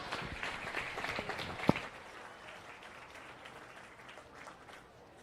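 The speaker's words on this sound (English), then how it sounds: "Give these kids one great big round of applause." An audience at a 4-H starter calf show claps in a burst of applause that is strongest at first, then thins to softer scattered clapping, moderately distant.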